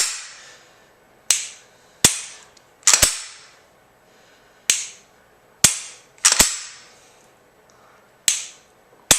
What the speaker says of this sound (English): And we squeeze the trigger.